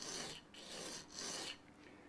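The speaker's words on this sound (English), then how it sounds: "I'm going to flatten down the grub screws, the feet, if you like" Grub screw feet on a guitar bridge are filed flat with quiet, close rasping strokes, three to four back-and-forth rubs in steady rhythm.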